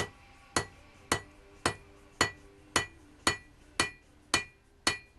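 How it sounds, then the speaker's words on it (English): A hammer forging a Damascus knife handle for a Tanto Japanese sword on an anvil rings out in ten evenly spaced sharp metallic strikes, each with a brief ringing decay, close and loud with no voices. "Here we begin forging the handle."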